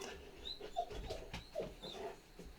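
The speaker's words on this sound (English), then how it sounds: "That scared my dog." A frightened, upset pet dog whimpers softly in a few short, high whines spread across a quiet indoor room, faint and close with no talking.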